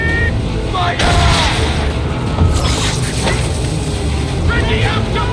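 A volley of musket gunfire in the video game Assassin's Creed 3, with sharp booming bursts over a busy battle din of clanking and shouting voices, loud and dense throughout.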